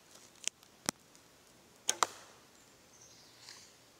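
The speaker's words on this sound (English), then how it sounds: "I'm going to shoot some arrows so you can hear it" Arrows are shot from a JD Berry Morningstar bow at about seven yards, each release and impact giving a sharp, quick snap: four distinct cracks in two spaced pairs over quiet background.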